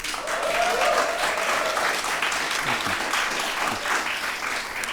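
An audience claps steadily and loudly for James Bradley as he is welcomed onto the stage at a books and conversation event, a sustained wash of applause with no pauses.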